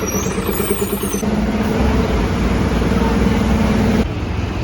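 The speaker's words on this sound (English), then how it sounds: "Finally my bus has arrived." A bus pulls in at a roadside stop near Bhayandar, Mumbai, with rumbling engine, hissing air brakes and a high whine, set amid steady street traffic noise.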